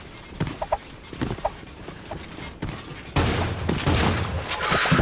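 Gunfire during a Call of Duty scrim match, with scattered sharp shotgun blasts early on, then a sustained louder stretch of dense firing and game noise toward the end.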